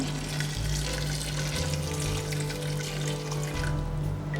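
Water poured into a pot of blended tomatoes, onions and peppers for beans and corn porridge, a steady, loud gushing splash running continuously with a low hum beneath, no voices.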